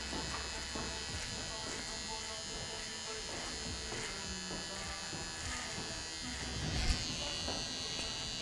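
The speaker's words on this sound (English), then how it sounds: "I'm gonna just freehand this, but I'm gonna use my finger as a kickstand basically for this clipper." An electric hair clipper buzzes steadily while cutting hair freehand in a barbershop, a close, continuous whine with small shifts in pitch as it moves through the hair, running the whole time.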